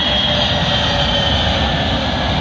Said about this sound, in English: Arriving in now is a British Airways Airbus A320 Neo, working service from Copenhagen to London Heathrow.